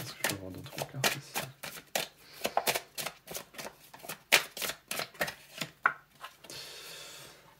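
Tarot cards being shuffled, a close series of crisp riffling flutters in quick uneven bursts, ending in a softer rustle, with a voice talking in between.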